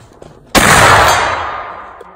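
A single sharp, loud muzzleloader rifle shot at an outdoor shooting match, a sudden crack followed by a long booming tail that fades over about a second and a half, with no one talking.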